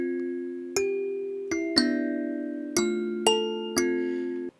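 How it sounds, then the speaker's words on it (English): Six plucked kalimba notes ring out one after another at an unhurried pace, each struck tine bright and bell-like with a slow decaying sustain, playing clearly and alone as a sample. "So I'm going to drop a kalimba sample."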